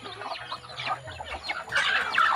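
Backyard chickens clucking at feeding time, with several overlapping short clucks and calls at close range, growing louder and busier toward the end.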